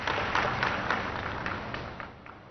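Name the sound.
audience applause for the Prime Minister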